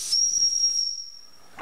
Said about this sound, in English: I think we've got steam up.